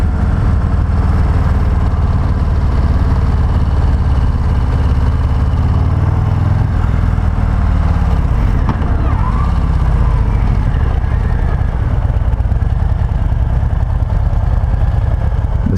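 A 2023 Harley-Davidson Breakout 117 rumbles continuously while being ridden, its loud low engine drone heavily mixed with wind buffeting, close and constant for the whole stretch with no clear speech.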